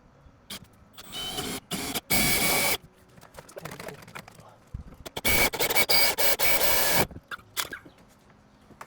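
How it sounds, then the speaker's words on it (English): A 1-inch hole saw bores through material to make a hole for electrical conduit during a mini-split installation, with several loud grinding bursts of cutting separated by brief pauses, close to the microphone. "So we got our 1-inch hole saw here, and let's set this up over here."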